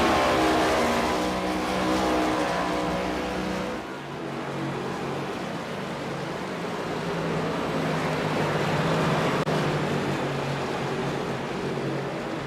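NASCAR Next Gen race car engines roar around Phoenix Raceway in iRacing, a loud steady drone of several cars at speed with a brief dip and recovery as the pack sweeps past.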